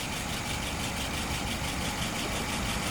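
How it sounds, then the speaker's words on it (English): A car engine idles steadily and evenly at about 640 rpm, a continuous low mechanical hum close by with no speech. "Currently idling at about 640."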